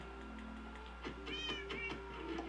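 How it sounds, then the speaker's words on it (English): Several cats meow in Minecraft, a few short cries close together over a low steady hum, with no talking. "Where all the cats are here to welcome you."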